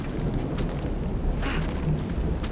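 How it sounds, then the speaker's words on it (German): Strong storm wind roars steadily in Shadow of the Tomb Raider, a dense whooshing wash with rain-like hiss and a couple of brief gust swells, no talking. "was ist das für ein krasser Wind"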